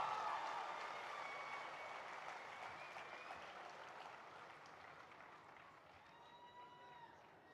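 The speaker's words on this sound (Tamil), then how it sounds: "நல்ல ஒரு கைத்தட்டல் தந்து ஃபாதரை கூப்பிடலாமா?" A crowd at a Christmas celebration applauds to welcome a Father to the stage, a steady wash of clapping that sounds faint and distant and slowly fades.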